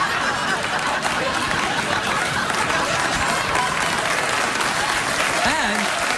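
A late-night talk show studio audience applauds steadily, a dense, even wash of clapping that holds its level throughout, with a few scattered laughs and faint chatter mixed in.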